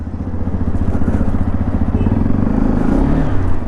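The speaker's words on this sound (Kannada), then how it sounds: "ಸ್ಟಾರ್ಟ್ ಮಾಡೋಣ. ಎಕ್ಸಾಸ್ಟ್ ಸೌಂಡ್ ಈ ಥರ ಕೇಳಿಸುತ್ತೆ." A 2025 Hero XPulse 210 off-road motorcycle idles just after starting, close by. The exhaust gives a steady, low, throbbing pulse throughout.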